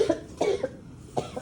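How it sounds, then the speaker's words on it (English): A few sharp coughs in quick succession, close and fairly loud, with short pauses between bursts. "Oh dear, coughing a lot."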